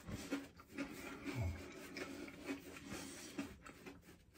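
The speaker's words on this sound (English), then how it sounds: "And let's start to shave." A razor scrapes across a face lathered with Mitchell's Wool Fat shaving soap in soft, repeated rasping strokes, faint and close, with a low hum in the background and no speech.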